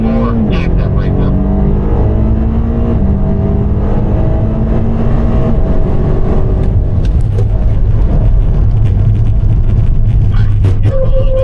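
A BMW M5 at full throttle on the North Palm Circuit race track: a loud, continuous engine roar rising in pitch through the gears, with an instructor talking over it.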